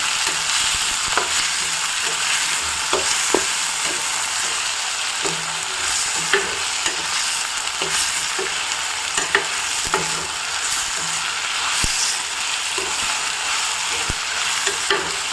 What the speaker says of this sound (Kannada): ಈಗ ಚೆನ್ನಾಗಿ ಫ್ರೈ ಆಗ್ತಾ ಇದೆ ಎಲ್ಲನೂ